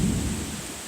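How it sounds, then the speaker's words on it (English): A thunderstorm, the first in months and coming from the east, brings a heavy low rumble of thunder over a steady hiss of rain, loud and continuous for about a second. "This is our first thunderstorm, really, in about 3 months."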